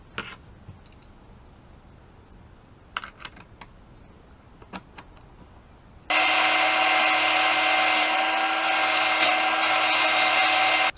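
A rotary tool grinds down the tips of a small 3D printed plastic part, a steady high whining buzz that starts suddenly after a few quiet taps and clicks and runs loud and close for about five seconds.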